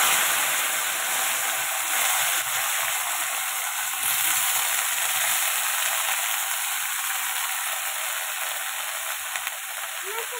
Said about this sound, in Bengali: এটা একটু লাল করে কিছু ভেজে নেবো